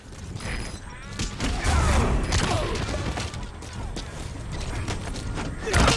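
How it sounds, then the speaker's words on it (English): Stun grenades going off in the video game Metal Gear Solid V: The Phantom Pain, a busy stretch of loud mechanical thumps, clatter and bursts packed densely together with a heavy, sustained level throughout. "Oh my god, stun grenades, where have you been all my life?"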